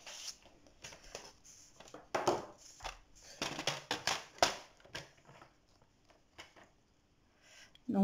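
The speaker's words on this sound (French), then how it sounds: "Donc je la coupe au milieu." Scissors cutting a paper card decoration down the middle, with irregular close crisp snips and paper rustling in short bursts separated by quiet pauses, no speech.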